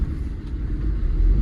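A Maruti Swift rolls over a small speed breaker, heard from inside as a deep, steady road rumble with a soft thump as the car, which has a suspension and steering problem, takes the bump.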